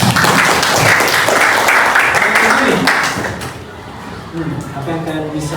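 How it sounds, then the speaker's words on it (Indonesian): A school class claps hands together in a burst of applause lasting about three seconds, then fades into murmuring voices and talk. "Coba tepuk tangan dulu."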